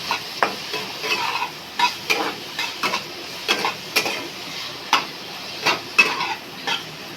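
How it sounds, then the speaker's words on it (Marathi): Onion, capsicum and tomato sauté in a pan for a soya chilli dish, a steady sizzle broken by repeated scraping stirs at an irregular rhythm, close and clear with no talking. "शिमला आणि टोमॅटो यामध्ये ते थोडं आपण परतून घेऊया."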